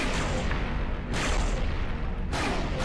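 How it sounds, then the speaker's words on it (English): Broadside cannons fire from a spaceship in the space combat game Rebel Galaxy, three deep, booming bursts about a second apart, loud and rumbling with no talk over them. "They're actually broadside cannons."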